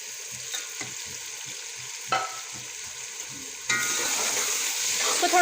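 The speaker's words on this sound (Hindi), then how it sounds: "अब हम इसमें शामिल करेंगे शिमला मिर्च, जिसको हम लोगों ने बारीक काट लिया।" Finely chopped capsicum sizzles and crackles in a hot pan, stir-fried for chicken fried rice, with a few stirring scrapes and a louder burst of frying partway through.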